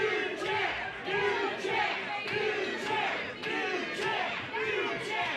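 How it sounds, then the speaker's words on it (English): Wrestling crowd at a show in Oshawa, Ontario, chants in a steady rhythmic pattern, the repeated shouts rising and falling evenly across the arena. "And the crowd here in Oshawa is already chanting for a new champ."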